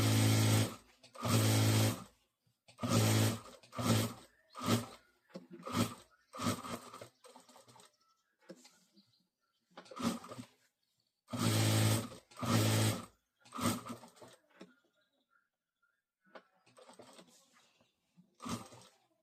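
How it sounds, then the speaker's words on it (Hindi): A domestic sewing machine stitches around the edges of a party-wear triangle samosa bag in short, rapid bursts of rattling needle strokes, separated by pauses and quieter handling sounds, close and clear. "तो यहाँ चारों तरफ मैं सिलाई कर देता हूँ"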